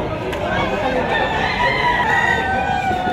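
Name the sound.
rooster crowing, gamefowl stag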